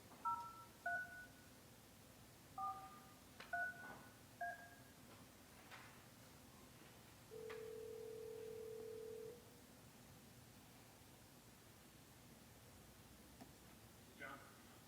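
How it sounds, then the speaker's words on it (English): Telephone keypad tones dial out from a historic district review board meeting room, a quick run of two-tone beeps in short bursts, then a steady ringback tone, faint and close against room hiss. "I need to get our applicant on the phone"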